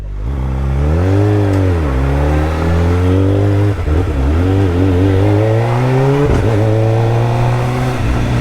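A car engine revs and accelerates nearby, rising and falling in pitch over several gear changes as the car drives past, loud and continuous with no talking.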